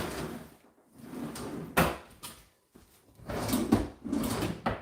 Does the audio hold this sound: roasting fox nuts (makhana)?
no